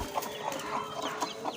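A desi hen clucking near eggs as chicks hatch, several soft quick clucks in a loose rhythm, close and fairly quiet, with faint high chick peeps.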